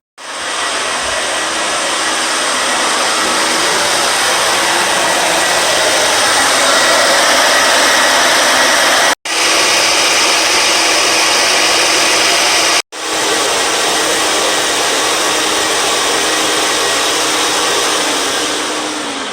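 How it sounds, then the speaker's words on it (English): A vacuum pulls air hard through a home air conditioner duct, its loud steady broadband roar running almost without pause, broken only by two brief cutoffs before it resumes at full force. "the vacuum will actually secure around here perfectly, so you'll get a full suction"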